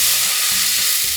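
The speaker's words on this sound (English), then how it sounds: "I'm going to deglaze the pan with this beef stock" A hot pan being deglazed with beef stock while searing beef tenderloin with mushrooms and shallots, a loud, close, continuous sizzling hiss with a faint low hum beneath.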